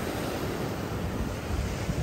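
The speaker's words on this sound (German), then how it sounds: "Hier sind die Wellen richtig hoch." Ocean surf rolling in at a Bali beach as the tide rises, a steady, close wash of breaking waves with wind buffeting the microphone, no voices.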